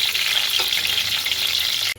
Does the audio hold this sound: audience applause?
no